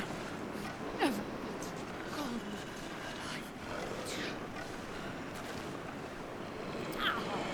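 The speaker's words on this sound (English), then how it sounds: "A damn wind though" Howling wind sweeps steadily across a frozen wilderness in the survival game The Long Dark, a constant rushing hiss with a few faint whistling gusts rising and falling over it.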